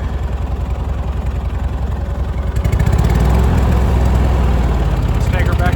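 A tractor engine runs steadily up close, a continuous low rumble that grows louder and heavier partway through, with no voices over it.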